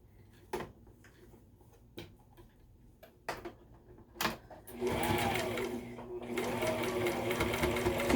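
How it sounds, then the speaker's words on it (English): A sewing machine runs close by, sewing pleats on a fabric face mask, starting with a few separate clicks and taps and then settling into a continuous fast stitching hum for the last few seconds. "It's easier to sew."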